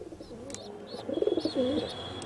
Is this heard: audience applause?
no